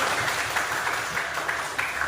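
A classroom of students applauds a classmate, a steady wash of clapping hands filling the room at moderate loudness without a break.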